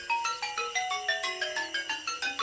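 A bright electronic phone ringtone plays inside a children's nursery rhyme song as a quick, steady series of beeping notes that step downward in pitch. It is loud and clear, with no voices.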